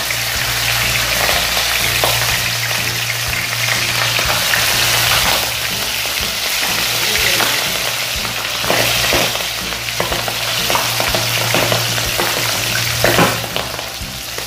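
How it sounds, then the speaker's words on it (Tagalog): Milkfish (bangus) fries in a hot pan with a continuous, crackling sizzle, close and bright, over a steady low hum that runs underneath the whole time. "Mainit ang ating kawali, ilagay na natin ang ating bangus."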